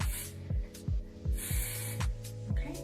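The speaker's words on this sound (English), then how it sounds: "it's important to spray the back so that it has some grip back there" Hairspray hisses onto hair in short, sharp bursts, set against a rhythmic low throbbing hum that pulses about twice a second.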